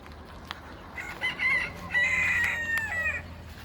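A rooster crows loudly nearby while chickens, including Turken (naked-neck) chickens, cluck softly in the background, set against steady outdoor ambience.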